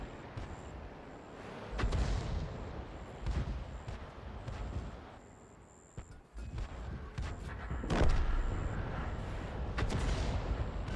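Artillery shells from the 105 leFH18B2 self-propelled gun landing and exploding close by in World of Tanks, a run of dull booms and bursts over a low rumbling battle din, loudest near the middle and end.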